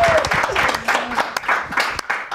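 Studio audience applauding in a basement talk-show set, a dense, steady wash of clapping that swells and dips slightly across a couple of seconds.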